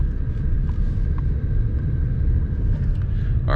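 A car's steady low road rumble while driving along a rural road, continuous and fairly close, with no voices.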